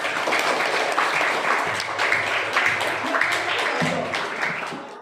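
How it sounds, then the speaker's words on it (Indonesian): A room full of people at a university teacher-training session applauding, steady dense clapping that holds for several seconds before starting to taper off. "Tepuk tangan untuk kalian."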